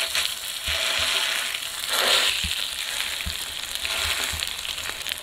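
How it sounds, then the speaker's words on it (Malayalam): Goldfish frying in hot oil on a heated stone, giving a steady, close crackling sizzle that swells briefly midway, with no voices. "ഇനി നമ്മുടെ മീനെ നമ്മൾ നേരെടുത്ത് വറുത്തെടുക്കാൻ പോവാണ്."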